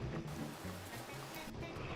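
Powerful ocean waves breaking over sections of reef, a continuous loud rushing wash of surf that stays steady throughout, heard up close with no voices.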